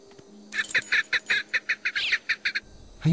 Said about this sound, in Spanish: Hay un pájaro escondido en uno de los árboles.